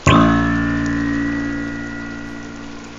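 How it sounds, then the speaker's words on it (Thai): Minke whale "Boeing" call recorded underwater, a sudden sharp onset followed by a long, slowly fading metallic twang with rich, ringing overtones, heard alone. "อีกตัวอย่างที่ใกล้เคียงกันคือเสียง Boeing ที่มาจากวาฬมิงค์เช่นกัน"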